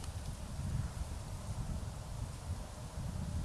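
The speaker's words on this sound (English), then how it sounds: "It's actually a pretty windy day" Steady low rumbling wind buffets the microphone outdoors on a windy day, a continuous broadband roar that stays fairly even throughout with no voices.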